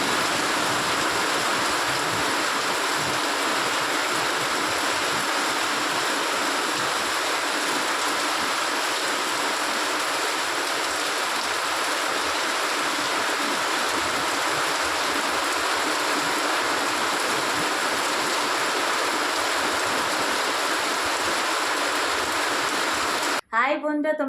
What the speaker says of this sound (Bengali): বিশাল জোরে বৃষ্টি হচ্ছে